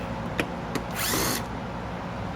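A power driver backs a screw out of the back of a vintage Bissell Cleanview II vacuum. It gives one short, close whir, with a couple of faint clicks before it and steady background hiss around it.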